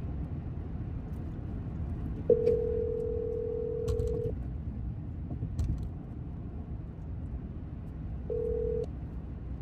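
A phone call placed through Siri from inside a moving car gives a clear, steady electronic ringing tone that sounds twice, a long ring followed after a pause by a shorter one, over continuous low road and engine rumble.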